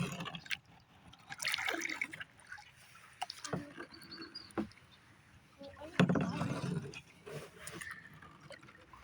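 Paddle strokes and water lapping around a small fishing kayak, with soft intermittent splashes and drips close by, while a man coaches a child in speech over the water sounds.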